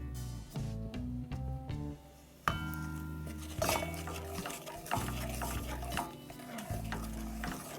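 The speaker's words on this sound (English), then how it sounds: "We've got our brown sugar right here and I'm just going to put it in here and caramelize it" Brown sugar caramelizing in a pot, heard as steady stirring with a spoon scraping and clinking against the metal, plus a soft sizzle underneath, close and continuous with a brief quiet pause partway through.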